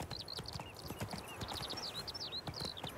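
Rapid horse hoof clip-clops in a steady trotting rhythm in The Witcher 3 video game, with high chirpy birdsong over them; fairly quiet and close.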